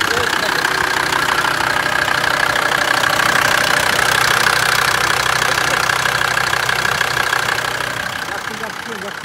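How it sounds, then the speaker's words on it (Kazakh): A Nissan car engine idles at a used-car market, a steady close mechanical hum and rattle that holds evenly before easing slightly near the end. "Nissan мотору негизи практичный жакшы мотор да."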